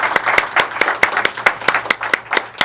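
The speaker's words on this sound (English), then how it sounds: "That's a beautiful round of applause." A round of applause from a studio audience on an evening talk show: a small group clapping in sharp, distinct, fairly even strikes, close and loud, with no talk over it.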